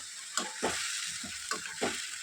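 Chicken pieces poured with their cooking water from a pressure cooker into a sizzling tempering with cooked-down tomatoes, giving several bursts of hissing and spattering over steady frying noise, close and fairly loud.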